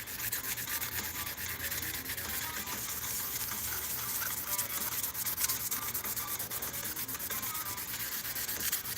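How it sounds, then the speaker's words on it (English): Steady hand polishing of a workpiece on a workbench gives a continuous soft scratchy rubbing, quiet and close, with no speech over it. "Right now we're just doing a bit of polishing"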